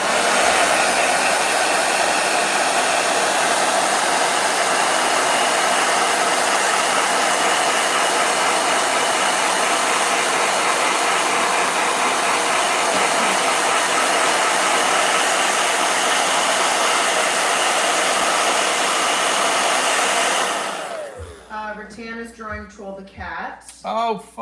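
A hair dryer blows with a steady, loud whooshing roar for about twenty seconds, then shuts off and a person starts talking.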